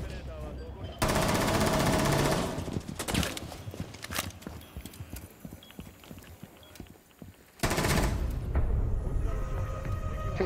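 Loud automatic gunfire from a first-person shooter game firing rubber bullets, sustained bursts at the start and again near the end, with scattered shots in between under game noise.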